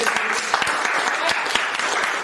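Audience clapping at a seminar-style stage event, a dense, lively burst of applause with individual sharp claps standing out near the front.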